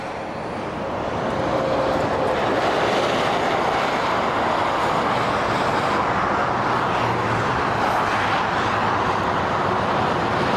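A steady, loud roar of heavy traffic on the M1 motorway, a continuous broadband rush of passing vehicles with no talking.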